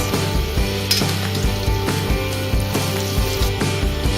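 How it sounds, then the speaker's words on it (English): Onions frying hard in a wok over a high flame, a loud, dense sizzle broken by steady, rhythmic scraping strokes of stirring, with no voices. "Put the flame high and stir them and fry them."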